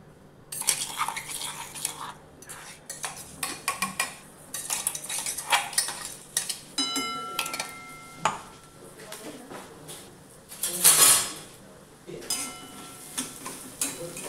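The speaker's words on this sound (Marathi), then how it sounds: "थोडं तेल टाकलंय आणि हे वाटलेलं हे वाटण पण ह्याच्यात आधी परतून घेणार." Ground spice paste is sautéed in oil in a kadhai, with intermittent metal spoon clinks and scraping against the pan over a faint sizzle, close and busy, with a louder burst of stirring near the end.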